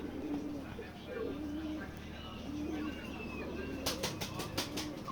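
Pigeons on a village pigeon farm in Keshabpur, Jessore, coo softly in low repeated calls over a steady background hum, followed by a burst of wing flapping near the end.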